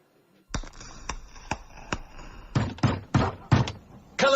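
Police pounding on a door indoors: a slow series of single heavy knocks, then a faster cluster of louder bangs, close and dry with no talk over them.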